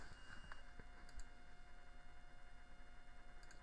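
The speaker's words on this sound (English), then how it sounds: "type them in." Keystrokes on a computer keyboard entering a serial number during a Microsoft Whistler upgrade, a few faint, scattered clicks over a steady low electrical hum.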